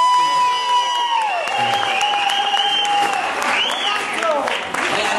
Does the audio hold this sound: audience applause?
yes